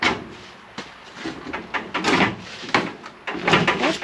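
A Tri Five car door, set on its hinges during a 4-door to 2-door conversion, is worked against the door post, giving a run of close metallic clunks, knocks and scrapes with no talking.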